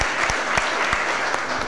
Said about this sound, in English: Let's give them a round of applause for coming out today.